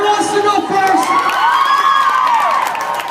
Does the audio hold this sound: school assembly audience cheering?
yes